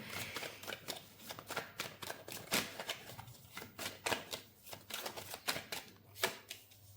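Tarot cards are shuffled and drawn from the deck, giving quiet, close, rapid riffling and flicking with repeated soft slaps as cards are cut and laid down, and no talking.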